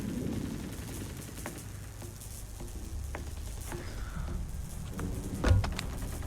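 A pistol fires in the Splinter Cell stealth video game: a handful of sharp, irregularly spaced shots over a low, muffled background rumble. The shots are moderately quiet, with one heavier thump near the end.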